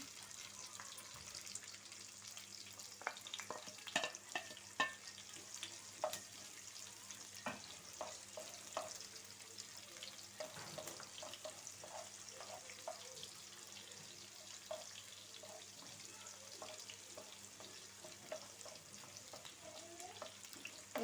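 Cumin seeds and finely chopped onions fry in a pan with a steady, soft sizzle. Scattered close pops and crackles run through it, and there is no talking.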